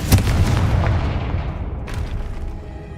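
A Confringo fire-spell blast in Hogwarts Legacy, one sharp, loud, gunshot-like bang at the start that fades into a long rumbling decay, with a softer burst later on.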